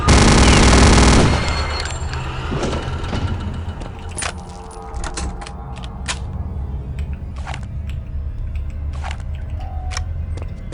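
Venom Gun in Return to Castle Wolfenstein unleashes a loud, dense burst of rapid fire for about a second, then cuts to scattered sharp clicks and impacts over a low game ambience.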